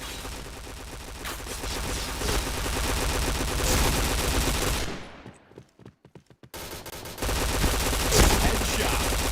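Loud sustained gunfire in a shooter video game, dense automatic bursts that thin to scattered single shots midway, then resume at full intensity.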